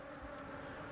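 A steady, faint hum of bees buzzing around a beehive at a honey farm in Rongai, continuous and even throughout, with no voices.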